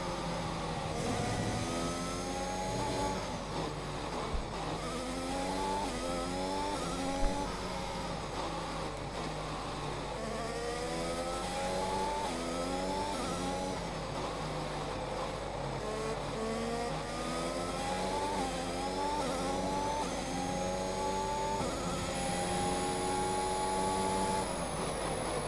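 An F1 car engine in the F1 2021 video game screams at full throttle, a loud, continuous high-pitched whine that rises and falls through gear changes as other cars are heard nearby, with no talk.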